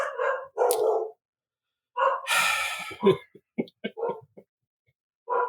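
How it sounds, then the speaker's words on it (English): A dog barks in several short bursts with pauses between them, mixed with breathy, gasping sounds; fairly close and clear against silence. "The dog alarm's going off, Dave."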